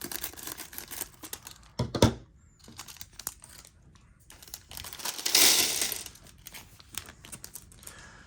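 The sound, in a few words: scissors cutting open plastic bag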